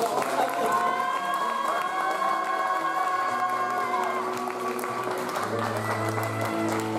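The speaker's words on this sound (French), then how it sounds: "je vous avais demandé d'applaudir" Audience applause for beauty pageant candidates at the Miss Beauté Franche-Comté 2019 show, a steady clapping wash running under loud, tonal stage music throughout.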